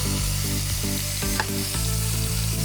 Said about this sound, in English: we're getting a nice good sear on it